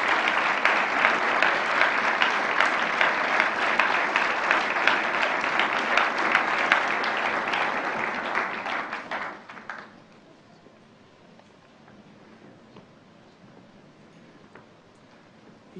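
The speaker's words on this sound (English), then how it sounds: "can we just give one more round of applause for Dr. Lennox?" An audience at a university forum lecture applauds in steady, dense clapping for about nine seconds, then it fades away into quiet room tone.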